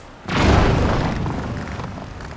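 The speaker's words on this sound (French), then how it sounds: "Faut que je lance une fleur bombe." A bomb flower explodes in Zelda: Tears of the Kingdom with a single loud, deep boom that hits sharply and then rumbles away slowly, with no talk over it.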